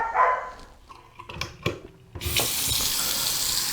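A bathroom faucet turned on after a few clicks and knocks, water then running in a steady, fairly close hiss into the sink.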